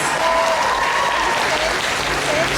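A convention crowd at an anime event applauds loudly after a performance, with dense, steady clapping filling the hall and voices mixed in.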